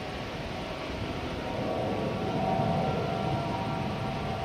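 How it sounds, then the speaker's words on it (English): A plane passes overhead during an outdoor plane-spotting session on ANZAC weekend, a steady broadband engine roar that swells slightly toward the middle, alone without talk. "got an aircraft flying over the top here."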